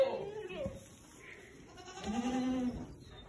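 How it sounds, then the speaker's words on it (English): Young Boer goats bleat in a farm pen for the youngest kids, with several thin cries over a steady barn background hum. "And that is the 120 baby goats you counted this year."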